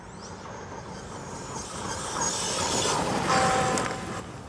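A Castle-powered DBXLE 2.0 RC car geared with a 20-tooth pinion whines past at speed, its electric motor swelling louder as it nears and then fading away, with no talk.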